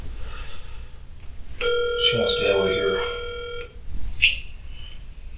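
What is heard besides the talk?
phone call being dialed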